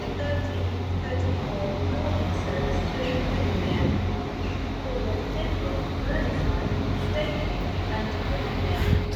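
Steady rumbling train noise with a low mechanical drone, constant and fairly loud, as a Northern passenger train departs Oxenholme Lake District station on the West Coast Main Line.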